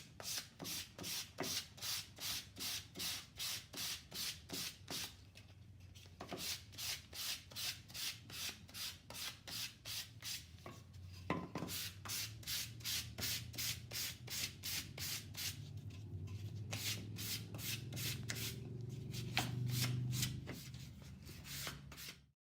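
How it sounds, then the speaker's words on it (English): Rhythmic back-and-forth strokes of light sanding rasp steadily on stained pine boards, pausing briefly now and then before resuming at an even pace. "you just want to lightly sand to bring a little bit of that stain through"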